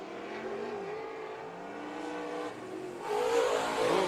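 Race cars on the Bakersfield Speedway dirt track drone as engines rise and fall through the laps. A louder, closer roar of revving swells near the end.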